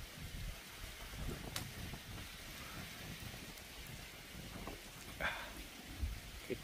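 Light drizzle falling outdoors in Sacramento, California: a faint, continuous patter of rain on surfaces with a few brief louder drips, and no talking.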